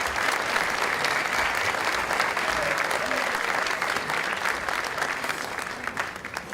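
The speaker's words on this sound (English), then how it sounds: "a round of applause for this great meal" Applause for the meal and its organising committee at a Founders Day dinner, a dense, steady burst of clapping from a roomful of diners that goes on for several seconds and tapers slightly at the end.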